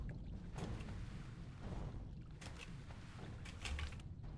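A character in World of Warcraft Classic sloshes and splashes through water, producing a faint, continuous watery churn with soft swells and a few brighter splashes.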